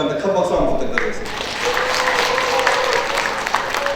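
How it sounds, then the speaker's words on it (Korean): An audience at an association's annual general meeting clapping together, a dense wash of applause that swells and holds steady with a few voices over it. "김숙현 사무국장한테 큰 박수 한번 부탁드리겠습니다"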